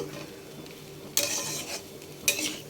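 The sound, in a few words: stirring and mixing a shukto curry in a pan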